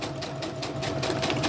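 A sewing machine runs a decorative stitch around the edges of junk journal folio flaps, a fast, steady mechanical whirring and rapid needle pulsing, close and continuous throughout.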